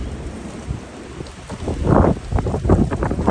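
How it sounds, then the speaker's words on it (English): Cold wind gusts roar and buffet outdoors in New York City ahead of a snowstorm, broadband rumble swelling louder toward the end with rough, blustery bursts. "it is cold and windy"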